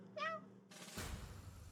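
A single short meow comes from a human voice imitating a cat, followed by a burst of rustling noise.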